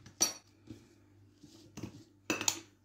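A metal spoon clinks against a bowl while salt goes into bread dough, with a few sharp, quiet taps and scrapes spread out among soft kitchen sounds.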